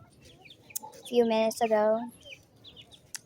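A hen on a chicken farm gives a short burst of clucking calls, close and clear, with faint chirps and light sounds around it and brief talk at the end.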